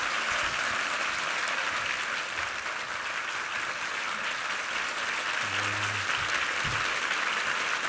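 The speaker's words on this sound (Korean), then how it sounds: "한번 박수로 환영해 주십시오." A church congregation at a Sunday worship service applauds to welcome a speaker, dense, sustained clapping from many people filling the room, with a faint low voice briefly audible near the end.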